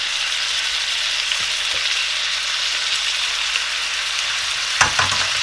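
Beef and vegetable stir fry sizzling hard in a hot pan as oyster sauce goes in, a steady loud frying hiss throughout with a few soft clinks and a small splash near the end.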